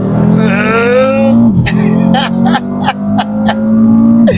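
A stage 2 tuned Audi RS3 with the 2.5 five-cylinder pulling hard: a loud, rising engine note, then a quick gear change that drops the pitch before it climbs again, with sharp crackles and pops between shifts.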